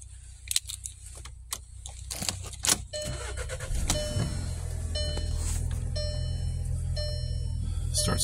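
A used car, just arrived and not yet cleaned, with keys jangling and clicks before its engine turns over and settles into a steady, close idle.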